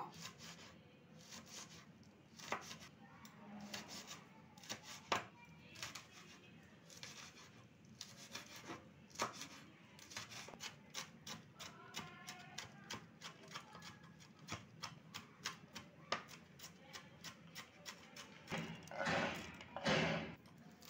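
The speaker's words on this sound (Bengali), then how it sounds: "এখানে কাঁচা লঙ্কাগুলো কুচি করে নেব।" Green chillies are chopped with a knife on a board for raw-rice pakoras, a long run of quick, irregular close taps and thuds that bunch into a denser burst near the end.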